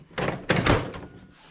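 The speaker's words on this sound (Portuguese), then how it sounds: "Fecho a frontura" A knitting machine's ribber is shut with a couple of quick, close, solid thunks and a short rattle that fades, with no talk.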